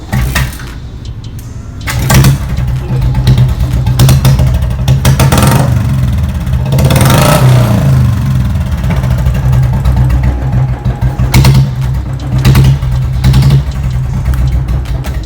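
A standard kick-start Bullet motorcycle is parked at home with its single-cylinder engine running. It gives a loud, steady thumping close by, with a few sharper revs and pops rising above the drone.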